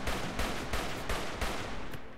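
Rapid bursts of heavy cannon fire in the video game Rimworld, a fast string of loud booming shots about three or four per second, dense and close with no talking over them.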